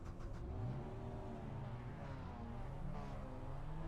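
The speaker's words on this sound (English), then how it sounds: "Right, let's get this engine started." A video game race car engine, a Mazda MX-5, hums and revs steadily, its pitch rising and falling, a continuous mechanical drone with no talking.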